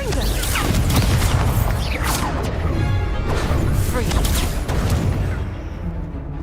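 Confringo blast spells exploding during a magical duel in Hogwarts Legacy: loud crashing bursts and crackling impacts in quick succession, with shouted spell voices mixed over the chaotic combat noise.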